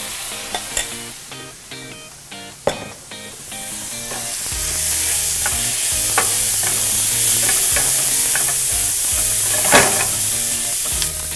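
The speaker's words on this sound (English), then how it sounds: "I'm gonna go ahead and add the beans now too. Give them some of that love from the onions and the spices." Beans tipped into a hot pan of onions and spices for shakshuka give a bright, steady sizzle that swells after a few seconds. Occasional clinks and scrapes of stirring sound over it, with no talking.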